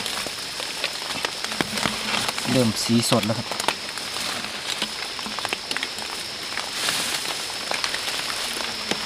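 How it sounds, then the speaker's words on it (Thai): Steady rain patters on leaves and ground in a forest, a dense hiss with scattered drips, while someone talks briefly in the foreground. "โชคดีที่ฝนตกใส่ให้นะครับ"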